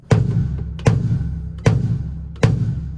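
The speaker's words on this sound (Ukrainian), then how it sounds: "і у мене бочка звучить ось так" Bass drum kick struck with a foot pedal on a drum kit, four deep, loud booming hits at a steady pace, each with a sharp attack and a ringing low decay, alone with no talking.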